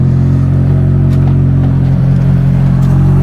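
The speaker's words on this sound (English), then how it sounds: "right now I'm getting the Evo warmed up" A Mitsubishi Evo engine idles while warming up, a loud, steady, close low rumble with a constant hum and no change in pace, alone without voices.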